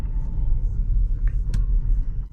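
Car engine rumbling low and steady as a vehicle eases slowly into a parking spot in a parking lot, with a couple of brief clicks and knocks near the end.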